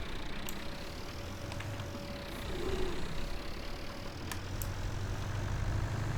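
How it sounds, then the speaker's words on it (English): A tractor in a farming video game idles with a steady low engine drone that swells slightly midway, with faint clicks on top and no one talking. "I'm actually quite impressed by how stable this tractor is,"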